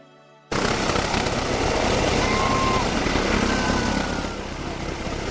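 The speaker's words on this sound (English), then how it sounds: "Police Helicopter, the law's eye in the sky." A police helicopter's rotor and turbine din starts abruptly after a short quiet moment, holding a loud, dense drone that fades a little toward the end.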